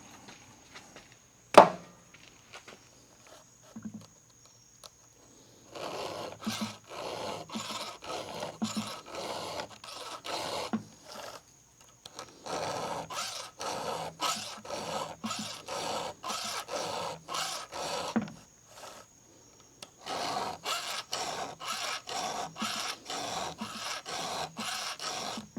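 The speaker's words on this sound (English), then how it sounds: "So I'm gonna switch over to files and see how it works" A hand file rasps across the teeth of a Husqvarna 440 chainsaw chain in quick rhythmic strokes, run in bursts separated by short pauses, with a sharp click near the start; close and fairly loud, no talking.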